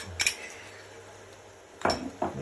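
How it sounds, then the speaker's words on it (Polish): A utensil stirring a yogurt and mayonnaise sauce in a small bowl gives a few quiet clinks and scrapes against the dish, with a soft hum in between. "i wszystko mieszamy. Dokładnie."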